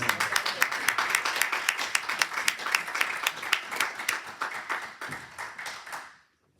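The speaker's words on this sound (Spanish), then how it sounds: "¿Cuánto le damos un aplauso al Señor?" A church congregation applauds in praise, with dense, fast clapping that stays steady for several seconds, then thins and dies away into silence.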